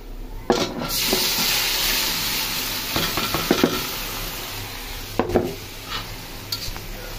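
Beef liver tipped into a pan of browned frying onions, a steady hiss of sizzling oil throughout with scattered clinks and scrapes of a utensil against the pan.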